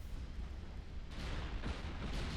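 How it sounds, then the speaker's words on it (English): Torpedo hits land on a warship in the naval video game Ultimate Admiral: Dreadnoughts, a few dull, distant booms rising out of a steady low rumble of battle noise. "Torpedoes into the Setsu."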